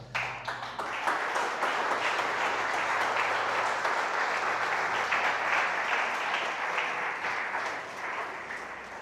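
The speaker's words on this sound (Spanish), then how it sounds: "Yo te estaría dándole un aplauso a Jesús" A church congregation claps for Jesus during a preacher's sermon, a full, sustained round of applause that builds quickly, holds strong and then gradually thins toward the end, with no speech over it.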